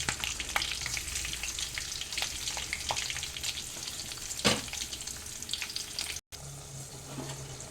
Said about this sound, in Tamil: எண்ணெய் சேர்த்துட்டு கருவேப்பிலை ரெண்டு கொத்து கத்திரப்பிலை சேர்த்து